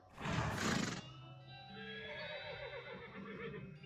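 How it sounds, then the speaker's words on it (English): A horse in a video game (West of Loathing) lets out a loud neigh, a burst of breath followed by a long, shaky whinny that trails off, close and alone. "Those are some nice horse sounds."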